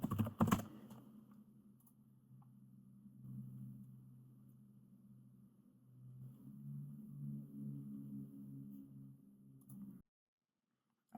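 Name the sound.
typing on a computer keyboard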